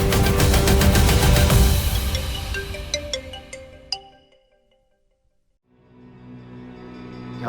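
An incoming-call phone ringtone in a Hindi television drama plays loud and melodic, fading out after about four seconds into near silence before low background sound returns; no one speaks.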